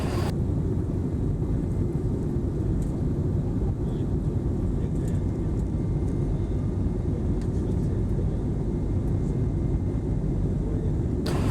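Steady, dense low roar of an IndiGo airliner cabin in flight, a constant engine and airflow drone with no breaks.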